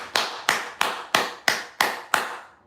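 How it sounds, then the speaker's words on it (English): Seven steady, evenly spaced hand claps, close and crisp, each with a short ringing decay, with no talking in between. "Clap hands for me."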